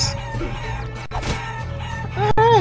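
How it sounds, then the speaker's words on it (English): Cartoonish chicken clucks and squawks from the Guacamelee video game, with game music and effects underneath; a rising bird-like squawk closes the short burst. "Come here, you fucking chickens."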